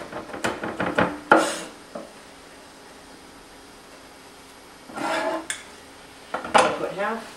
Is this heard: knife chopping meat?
yes